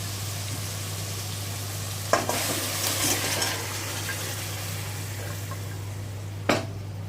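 Taro, chickpeas, salt, chili powder, coriander powder and crushed garlic fry together in a pan, a soft, even hiss over a low steady hum, with two sharp clanks of a utensil and no talking.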